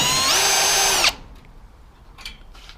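Power drill whirring at high speed to back a bolt out of a garage door, a loud steady whine for about a second that cuts off abruptly, followed by faint handling clatter.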